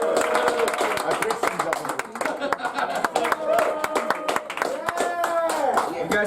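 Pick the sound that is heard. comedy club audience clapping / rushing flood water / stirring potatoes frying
comedy club audience clapping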